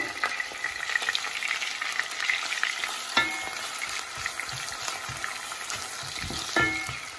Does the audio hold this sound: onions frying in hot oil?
yes